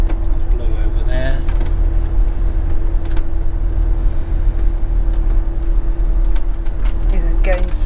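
A car drives slowly around a caravan and motorhome club site at Tewkesbury Abbey, giving a steady low engine and road rumble with a constant hum throughout, close and continuous, while people talk quietly over it.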